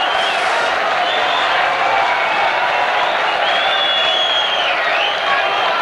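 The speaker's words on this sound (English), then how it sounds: "Loads of applause for that" Spectators applaud and cheer a try in a Sheffield versus Warrington rugby league cup match, a loud, continuous crowd roar with whistles rising above the clapping throughout.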